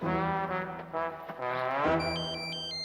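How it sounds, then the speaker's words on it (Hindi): A mobile phone ringtone plays as a tonal electronic melody with stepped high beeps entering partway through, over a sustained droning musical backing, moderately loud. "साहब एक मिनट, फोन आ गया साहब"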